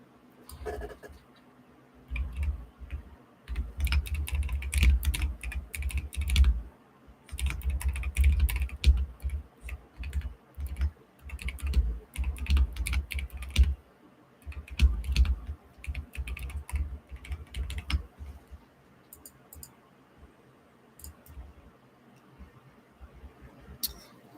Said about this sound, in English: I'm not sure if I fixed the audio mixing problem with my keyboard yet